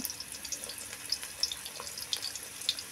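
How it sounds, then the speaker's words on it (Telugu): Chopped onion frying in leftover oil in a pan while making restaurant-style chicken fried rice, a faint, steady crackling sizzle with soft pops and occasional clinks, no voices. "ఇప్పుడు అదే నూనెలో 1 ఆనియన్ అండి తరిగి పెట్టి వేసుకుంటున్నాను"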